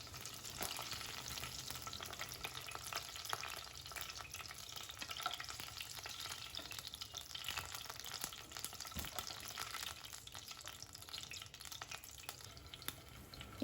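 Chicken pieces deep-frying in hot oil for a butter garlic chicken, a dense continuous crackling sizzle close up and steady, with no voices over it.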